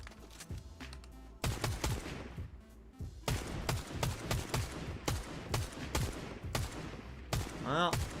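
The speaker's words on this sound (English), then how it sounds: "They're still shooting." Bursts of automatic and single-shot gunfire in Fortnite, several volleys crackling loud and close in rapid rhythm with short pauses between, continuing throughout with no talking.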